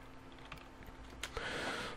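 Typing on a computer keyboard while entering an ID into a Minecraft ComputerCraft terminal: scattered light key clicks followed by a denser, brisker run of keystrokes, close and clear.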